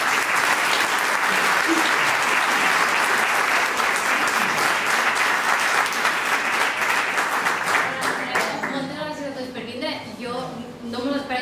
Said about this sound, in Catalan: I res, un fort aplaudiment.